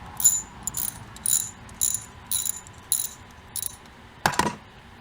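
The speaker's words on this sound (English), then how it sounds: "Using a 10 millimeter socket and ratchet with looks like maybe a 3-inch extension." A 10 mm socket on a ratchet with a 3-inch extension loosens a bolt, a rapid series of about nine crisp metallic ratchet clicks in short bursts, ending with a louder clunk.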